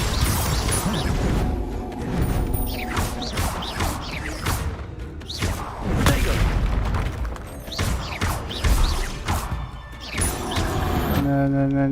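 Spell blasts from Confringo and Expelliarmus in the video game Hogwarts Legacy, a steady run of loud booming, crashing impacts with sparkling magical streaks, packed close together over a constant background of battle noise.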